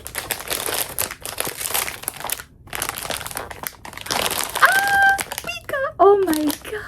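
Plastic packaging of a blind box crinkles and rustles close by in repeated bursts as it is opened, with someone talking over it.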